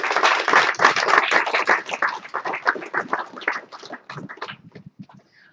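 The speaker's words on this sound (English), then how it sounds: "If we can give another round of applause." Audience applause closes an academic talk on protest and violence against women in post-Soviet Cuba. The clapping starts fairly dense, then thins into scattered, uneven claps that trail off.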